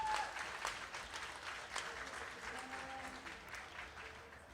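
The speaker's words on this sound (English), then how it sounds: "they're very deserving of a big round of applause" A crowd at a county fair youth livestock market steer and beef show claps steadily for the volunteers, a moderately distant, fading round of applause with a few murmuring voices beneath.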